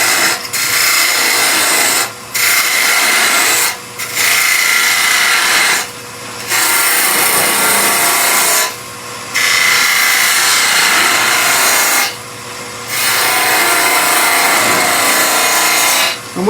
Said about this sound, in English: Now I'm going to go to a bowl gouge now because I tend to prefer the bowl gouge over a spindle.